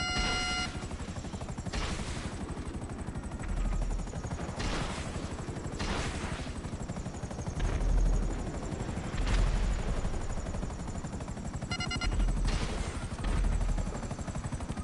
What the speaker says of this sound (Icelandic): Ég er að sé þyrluna alveg.